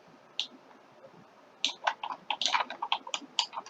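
Computer keyboard keys are pressed while working on a Roblox animation in Blender: a single tap, a pause, then a quick irregular run of close, crisp clicks.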